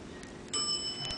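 A Bagby traction elevator's bell in an office building rings a single bright ding partway through, clear and close against a quiet hum.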